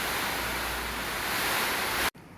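Strong typhoon wind roars as a dense, continuous rush close to the microphone, then cuts off abruptly near the end.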